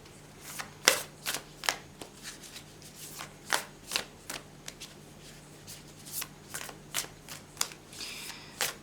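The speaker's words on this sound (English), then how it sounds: "Just give me a minute to shuffle the cards." Tarot cards being shuffled in repeated quick riffling bursts, close and crisp, with short pauses between each shuffle.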